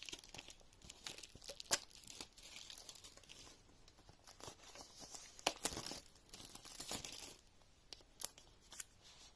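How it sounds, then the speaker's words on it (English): Plastic wrap is peeled and torn off an iPad Pro box, giving close, quiet crinkling and ripping in irregular bursts with a few sharper tears. "So let's take the plastic off."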